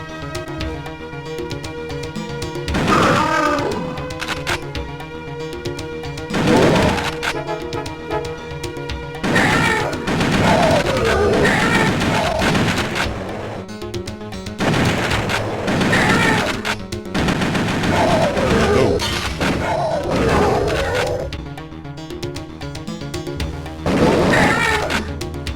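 Rapid gunfire and crashing impacts from a light gun shooting game played on a Polymega console, loud bursts repeating in clusters over layered game music and effects throughout, with no talking.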